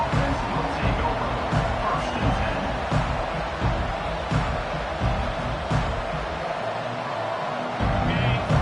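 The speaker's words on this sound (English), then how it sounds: "This crowd trying to make life miserable for this offense." Stadium crowd noise in a college football video game, Texas vs LSU, a steady roaring hubbub of massed fans that stays loud and dense throughout, with brief surges like cheers rising out of the din.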